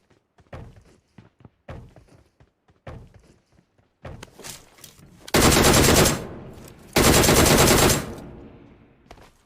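Video game gunfire from a mobile shooter: scattered single shots and short bursts, then two long, loud sustained automatic volleys near the middle, with no talking.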